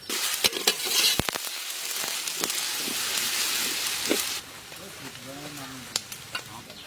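Ginger garlic paste sizzles in hot oil in a pan for a chicken curry, with steady frying hiss and scattered stirring scrapes and clicks, louder in the first part then quieter.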